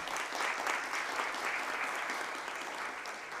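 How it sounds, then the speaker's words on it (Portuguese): Audience applause at a solemn legislative session, a steady moderate wash of clapping heard at some distance. "uma salva de palmas"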